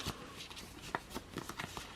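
Cards from a murder-mystery board game are shuffled close up, a quick run of soft riffling flicks and papery slaps, faint and continuous, with no talking over it.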